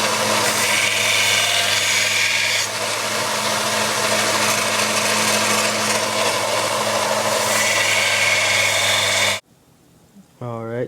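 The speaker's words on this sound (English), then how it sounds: "I always like to finish my knife blade by using the belt sander" A belt sander finishing a steel knife blade gives a loud, steady whine and grinding hiss that holds for about nine seconds, then stops abruptly and leaves near silence.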